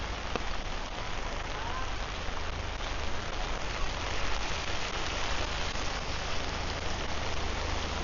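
Steady rain falls during a walk in Kathu, Phuket, in the rainy season, a dense, even hiss of drops on surfaces throughout, with no clear voices.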